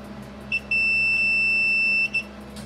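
A multimeter emits a continuity-test beep while probing a Game Boy Color circuit board, a short chirp followed by a sustained high tone of about a second and a half, then another brief chirp in a quiet room.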